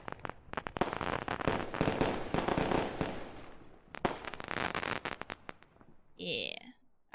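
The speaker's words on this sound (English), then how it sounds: "I've heard enough fireworks." Fireworks at a Fourth of July celebration burst in rapid, irregular crackling volleys, loud, sharp pops tumbling over one another for several seconds before a brief pause and a final bang, with people talking faintly in the background.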